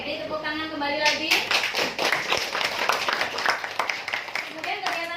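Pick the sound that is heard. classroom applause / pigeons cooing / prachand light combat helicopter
classroom applause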